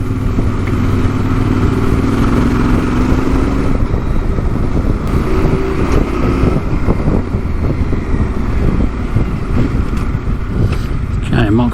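A Yamaha Tenere 700 adventure motorcycle drones steadily while riding, its engine buried in heavy wind buffeting on the microphone, with voices heard over it throughout.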